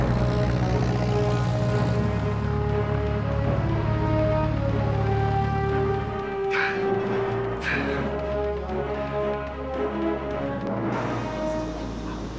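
A Cessna propeller plane in flight, a loud, steady droning engine hum with a strong low buzz that shifts partway through, joined by some brief higher noise bursts.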